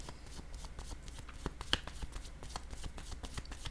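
A deck of tarot cards is shuffled by hand in steady, soft riffling and flicking bursts, close and quiet, with one sharper snap partway through.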